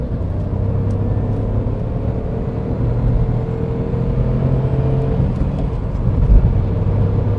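Dacia Logan 1.0 TCe ECO-G with six-speed manual gearbox running on LPG at full throttle, a steady low engine drone and road rumble from inside the cabin, rising slightly toward the end, with no talking.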